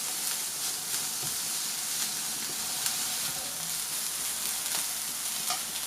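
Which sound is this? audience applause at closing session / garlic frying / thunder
garlic frying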